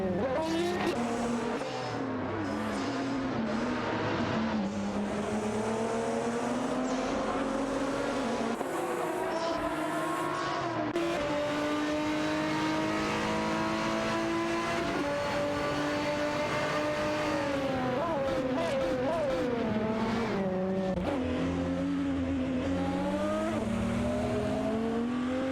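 Porsche 996 Biturbo and Porsche Carrera GTR race cars in a racing video game, engines screaming continuously with rising and falling revs through gear changes, loud and close for the whole stretch.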